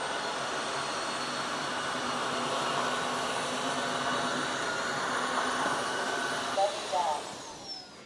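A Roborock robot vacuum cleaning along an edge of the floor, a steady close whirring drone of motor and brushes that holds evenly, then a few brief bumps and a falling whine near the end.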